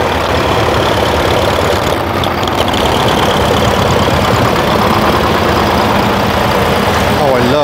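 Many tractors rumble and idle at close range during a parade at a Welsh agricultural show. The engine noise is heavy and constant and mixes with crowd noise, and people talk now and then.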